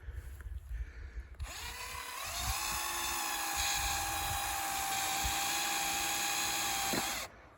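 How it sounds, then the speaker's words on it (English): A power drill whines into wood for several seconds, its pitch steady and high, then cuts off abruptly; faint rustling comes before it. "the drill gets clogged up with wood"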